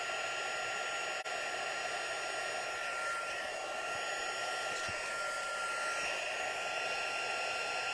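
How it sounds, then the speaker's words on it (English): A heat embossing gun, used for silver embossing on a card, blows hot air with a steady, close, unbroken whooshing roar, like a small hair dryer running continuously. "make sure that your gun is preheated so that you don't have to hover over your embossing"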